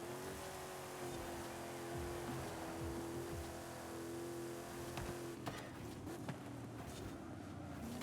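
Engine of a GMC Jimmy off-road truck in Forza Horizon 5, a steady droning hum that shifts pitch, then rougher tire and gravel noise in the later seconds, fairly quiet and without voices.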